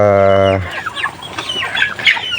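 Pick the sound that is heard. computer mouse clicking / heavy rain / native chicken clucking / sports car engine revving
native chicken clucking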